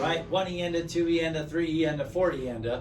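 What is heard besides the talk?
None of the usual background noises is heard.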